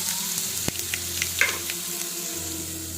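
Ginger garlic paste fries with turmeric in a pan for mixed vegetable pulusu, a soft, even sizzle broken by a sharp utensil tap and a few light stirring scrapes, close and quiet, no one talking.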